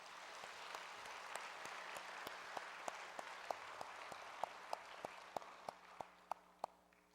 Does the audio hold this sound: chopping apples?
no